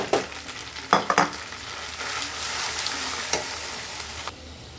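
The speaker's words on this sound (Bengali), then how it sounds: "এই যে মশলাগুলো কষানো হয়ে গেছে তেল বের হয়ে গেছে" Ground spices and duck sizzle in hot oil in a pan for a duck curry, with a steady hiss broken by a few sharp clatters from stirring, close and moderately loud.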